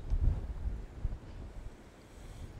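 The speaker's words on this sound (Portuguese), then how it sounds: "Tá muito vento, ó." Strong wind buffets the microphone at a high-rise building construction site, with low rumbling gusts that are strongest at the start and then ease into a softer steady roar, and no talking.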